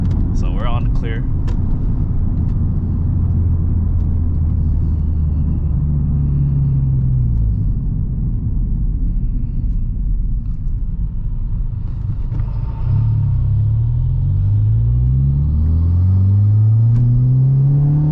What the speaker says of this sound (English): a red Type R just cruising along with a loud exhaust